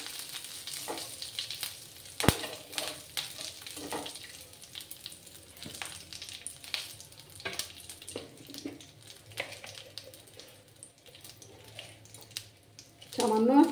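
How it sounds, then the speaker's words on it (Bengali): Curry leaves and spices fry in a pan for a semolina and potato snack, giving a soft, continuous sizzle close by with scattered clicks and light scraping of stirring. "একটু সময় ভাজা ভাজা করে নেব।"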